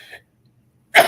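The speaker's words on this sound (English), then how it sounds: "I'm going to sneeze." A single sharp sneeze bursts out loudly at the end of a pause in a political science lecture, preceded by a faint breathy intake.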